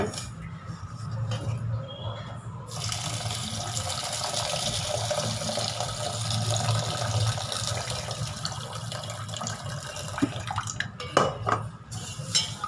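Water poured into a vessel of washed horse gram for soaking, a steady liquid wash with light clinks of metal kitchenware, close and continuous with no talk.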